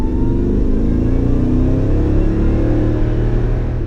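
A Toyota Tundra engine runs through a BAmuffler TRD-style dual exhaust, giving a steady, deep, loud rumble with a slight rising rev and no talking over it.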